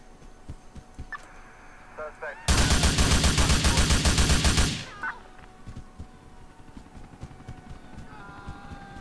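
Rapid automatic gunfire in a video game, a loud dense burst of shots lasting about two seconds amid quieter background game sounds, with no talk over it.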